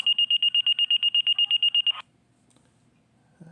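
A flow meter alarm sounds as a rapid series of about fifteen sharp, evenly spaced electronic beeps, loud and close, then cuts off abruptly into near silence with a brief faint noise at the end.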